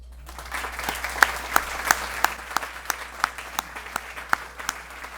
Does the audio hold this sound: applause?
yes